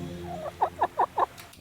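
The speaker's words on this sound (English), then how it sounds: "look at these turkeys" Turkeys gobble close by, a quick run of four or five rhythmic warbling calls after a short lead-in.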